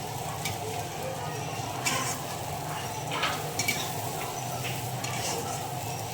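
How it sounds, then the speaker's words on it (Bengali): Onions frying and being stirred in a pan, a steady close sizzle with scraping stirring strokes running throughout. "একটু পেঁয়াজ ভেজে তুলে রাখবো অল্প করে। পেঁয়াজ দিচ্ছি"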